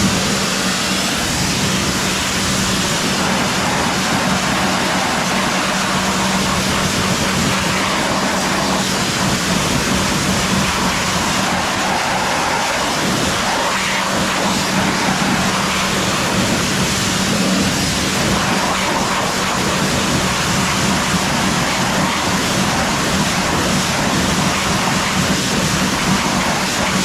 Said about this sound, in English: then get your jet wash and wash it up